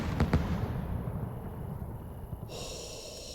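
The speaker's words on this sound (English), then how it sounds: "What a nice salute end again." A salute firework cake goes off in the video game Fireworks Mania. A couple of sharp, loud reports come right at the start, then a fading rumble and crackle trails on.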